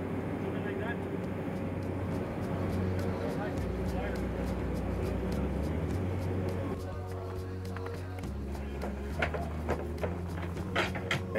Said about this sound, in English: had to secure an aircraft, Cessna Caravan. We're gonna do takeoff and landing scene.